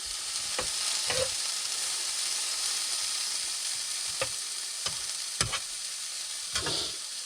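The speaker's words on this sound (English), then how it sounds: "While that's frying away," Steady hiss of food frying in a pan, punctuated by several sharp clicks and scrapes of a utensil moving the food around.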